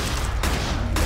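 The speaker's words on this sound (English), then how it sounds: "Just keep shooting, just keep shooting." Gunfire in Black Ops 3 custom zombies, a loud, dense volley with two sharp bursts punctuating a continuous roar of shots.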